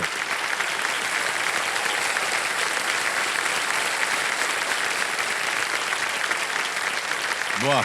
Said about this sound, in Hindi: ताली बजती रहे जोरदार इनके लिए।